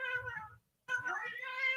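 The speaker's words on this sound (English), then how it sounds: "I hear your cats." Cats meow close by, two drawn-out cries separated by a short silence, the second longer and more insistent.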